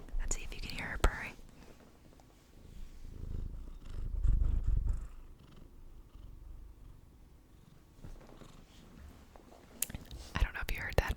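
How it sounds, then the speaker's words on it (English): A Bengal mix cat named Mila purrs close and quiet, a low soft rumble that swells and fades, with intermittent whispering and a few small clicks around it. "Let's see if you can hear her purring."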